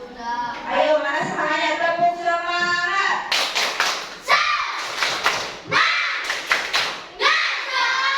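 A third-grade classroom of children chants together in unison, then breaks into loud, sharp rhythmic group clapping: several quick bursts of claps mixed with voices, close and lively.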